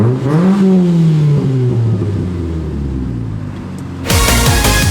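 A Mitsubishi Mirage Cyborg ZR car engine revs hard and close, its pitch climbing and then sagging as it holds, before a sudden sharper roar bursts in near the end.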